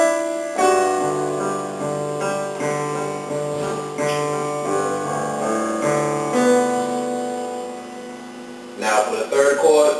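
Piano plays the arpeggiated opening chords of a song, clear sustained notes rolling one after another for most of the span, with a brief voice near the end.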